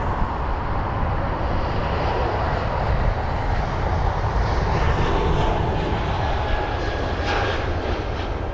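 An Airbus A320neo at London Heathrow taxis briskly toward the runway to line up for takeoff, its engines giving a steady, loud broadband roar that holds evenly throughout with no voices.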